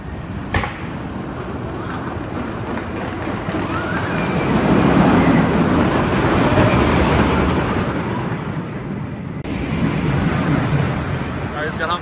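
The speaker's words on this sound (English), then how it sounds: "The train was actually running a little aggressively on the corners" A continuous roar of a roller coaster train rumbling along the track at Six Flags Great America with heavy wind noise, swelling in the middle, with a muffled voice under it.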